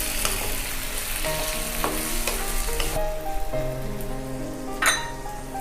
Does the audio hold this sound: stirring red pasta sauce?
yes